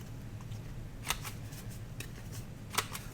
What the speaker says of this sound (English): I'm just going to use my 1/4 inch and just cut the corners just a tiny bit.